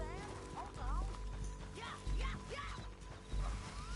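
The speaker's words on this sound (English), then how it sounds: "We need our horses." Horses in the video game Red Dead Redemption 2 give off hoof clatter and brief whinny-like cries, close and moderately loud, with voices mixed in.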